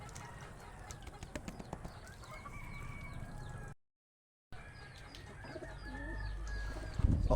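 A racing pigeon coos softly after returning home through rain during a hard race in Lopez, Quezon, with repeated low calls among other birds, a brief dropout, and a louder rustle near the end.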